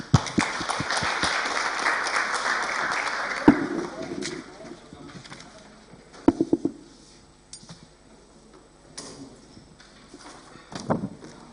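At a university partnership event, an audience applauds warmly for a few seconds before the clapping thins into scattered claps, bumps and people talking.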